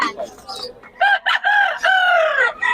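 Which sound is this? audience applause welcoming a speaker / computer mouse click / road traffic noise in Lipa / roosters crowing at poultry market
roosters crowing at poultry market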